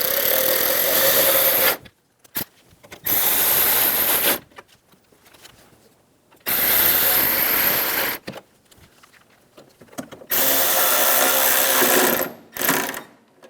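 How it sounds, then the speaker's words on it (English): Screws are driven in to fasten the grille on a 1988-1999 GMC K1500 truck, with loud sustained bursts of power-driver whirring and grinding separated by short quiet gaps; no speech. "Install the screw for the middle of the grille."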